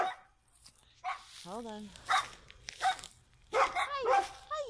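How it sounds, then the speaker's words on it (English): Dogs bark and yip repeatedly near a home garden in the neighborhood, with a whining, wavering cry among the short barks, while a person talks briefly over them. "dogs, neighborhood dogs"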